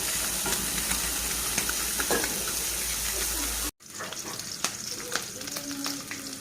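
Small fish frying lightly in hot oil in a pan, a steady loud sizzle that cuts out abruptly midway and then resumes more softly with scattered crackles.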